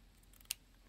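A single quick snip of scissors cutting across a paper bookmark trim, brief and close, standing alone in a quiet room with no talk.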